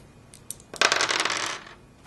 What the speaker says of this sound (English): We roll 2 6-sided dice.